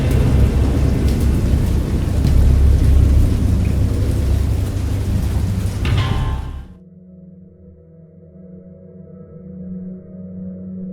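Heavy rain pours down with deep rumbling thunder for several seconds, then it cuts off abruptly, leaving only a faint low hum.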